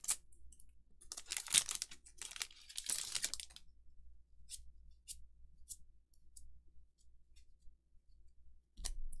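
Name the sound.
tearing open a Final Fantasy TCG booster pack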